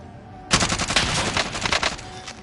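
Sustained automatic fire from an FR 5.56 rifle in the shooter game Warzone, a loud dense burst that kicks in abruptly and rattles on with rapid, steady shots until the end.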